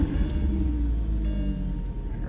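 A Lamborghini Gallardo engine rumbles at idle after starting, a deep, steady low growl heard close by with no talk.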